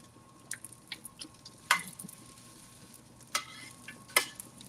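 Chicken cutlets for chicken piccata fry quietly in oil, heard as a soft low hiss broken by scattered sharp crackles and pops, a few louder spits standing out at irregular moments.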